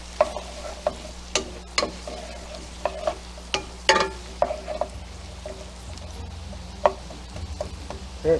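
Onions are softened in a pan for cream of broccoli soup. A utensil scrapes and taps against the pan in a steady, roughly regular rhythm, about a dozen strokes, over a soft continuous sizzle with no talking.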